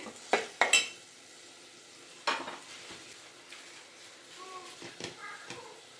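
Tomatoes fry in a pan on the stove for a home-cooked Kannada rasam. Scattered metal clinks of a stirring spoon come with a soft sizzle, in a few sharp bursts and quieter scraping between them.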